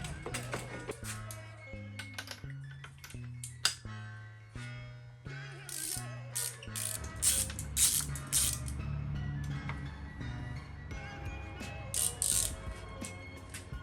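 A ratchet wrench loosens spark plugs on a BMW E46 engine in quiet, rhythmic bursts of clicking pawl strokes, some short and some longer, with faint metallic creaks.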